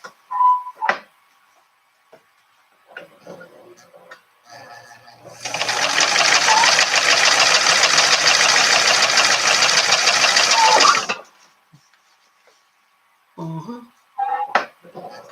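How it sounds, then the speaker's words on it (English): A sewing machine stitching a makeup pouch runs in one steady, loud whirring burst of about five seconds, with close speech and handling noise before and after. "maybe end it up with top stitching with your machine"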